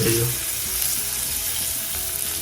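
Fish frying in oil on a wood-fired stove gives a dense, continuous sizzle and crackle, close and fairly loud throughout, with no one speaking.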